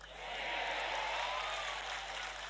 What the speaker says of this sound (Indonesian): Oh, tepuk tangannya bukan main lagi.